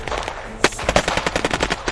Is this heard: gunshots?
yes